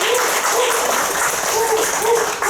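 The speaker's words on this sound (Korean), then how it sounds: "박수!" Loud, dense applause from an audience at a hospice volunteer training session in a hospital, sustained and steady, with a voice speaking faintly over it.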